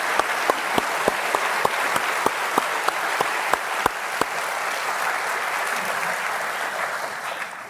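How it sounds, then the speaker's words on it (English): An audience applauds after NATO Secretary General Rutte's lecture at West Point: a dense patter of clapping with a few sharp, close individual claps standing out early, then thinning and fading toward the end. "Please give a round of applause"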